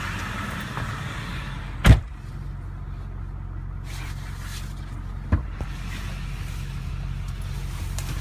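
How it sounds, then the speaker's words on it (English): A white 2005 Chevrolet Silverado 3500 diesel truck idles steadily with a low, even engine drone, broken by two sharp clunks like a door closing. "Starting right up for us today. Clean running diesel."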